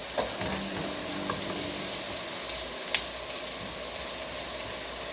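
Garlic sizzling in a pan with ground turkey chili, a close, even hiss of frying that runs throughout, with one brief sharp clink partway through.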